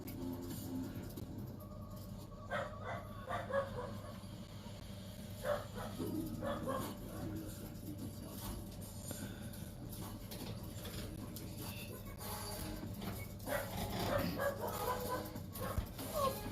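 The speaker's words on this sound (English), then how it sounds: "we don't have to listen to the dogs bark" Dogs bark and yip intermittently at a home on a quiet evening, a few sharp calls rising over a steady low hum and background household noise.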